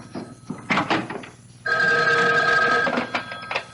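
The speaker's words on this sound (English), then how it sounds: "Excuse me, that's my phone." A telephone bell rings loud and close for a little over a second, alone, after a short stretch of other indoor sounds.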